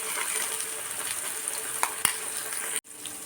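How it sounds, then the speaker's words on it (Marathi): Tomato paste sizzling and being stirred in a frying pan, a steady close hiss with a few sharp spoon clinks against the pan. "टोमॅटो पेस्ट घालत आहे आणि छान आपल्याला व्यवस्थित मिक्स करून घ्यायचं आहे"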